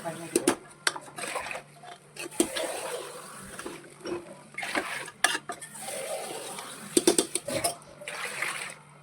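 Rice for biryani fries in a pot as it is stirred, making repeated clatters and scrapes of a utensil against the metal over a soft sizzling hiss. Voices talk now and then.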